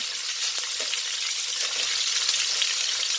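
Pork pata skin browning in a pan for Bisaya humba, a steady, even sizzle of frying fat with a faint low hum beneath, close and continuous, with no voices.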